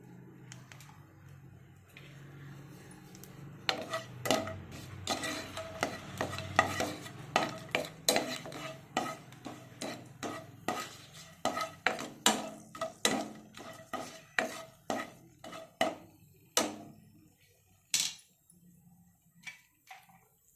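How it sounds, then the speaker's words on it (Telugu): Whole spices such as cinnamon and cardamom frying in a pan for a dhaba-style paneer curry, a soft sizzle broken by many sharp, irregular clicks and scrapes of a spoon stirring against the pan. "ముందుగా మసాలా దినుసులు వేసుకుందాము. ఇవి ఫ్రై చేసుకోవాలి."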